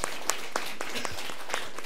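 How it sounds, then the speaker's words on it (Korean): A church congregation claps during a Korean Easter worship service, scattered hand claps forming brief, moderately loud applause with no one speaking. "박수를 한번."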